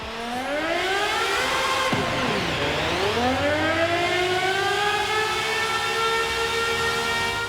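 Aston Martin Valkyrie 2023 hybrid hypercar in Forza Horizon 5, its engine howling through a Guanajuato tunnel with a siren-like whine; steady loud high-pitched roar with rising and falling harmonics, a dip in revs near the middle, no talking.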